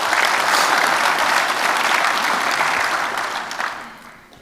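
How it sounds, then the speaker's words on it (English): An audience at an annual company conference and awards presentation gives a round of applause, dense and loud at first, then gradually thinning and fading over the last second. "let's give John a round of applause"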